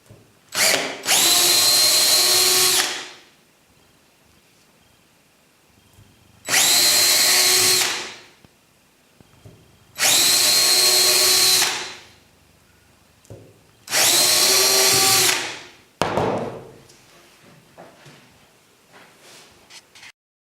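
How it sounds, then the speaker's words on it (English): A power drill whirs loudly up close in four long bursts of a couple of seconds each, drilling mounting holes for a model railway point motor, separated by quiet pauses, plus a short final buzz. "Mark your holes, take them off, drill them."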